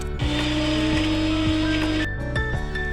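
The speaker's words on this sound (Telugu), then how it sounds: "ముందుగా ఎండు కొబ్బరి, పుట్నాలు మిక్సీ పట్టుకుందాం" A mixer grinder whirs loudly and steadily as it grinds dry coconut and roasted gram, with its motor pitch shifting slightly near the end of the run.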